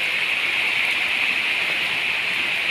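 Steady rain falling outdoors on a porang (konjac) farm plot, a continuous even hiss with no breaks and no voices.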